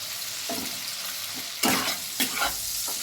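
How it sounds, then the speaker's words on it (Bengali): Onions fry in a pan with cinnamon, cloves and black pepper for a duck egg curry, stirred with a utensil: a steady oily sizzle broken by several sharp scraping strokes, close and fairly loud, with no talking. "এবার সব একসঙ্গে ভালো করে মিশিয়ে নিয়ে ভাজতে হবে।"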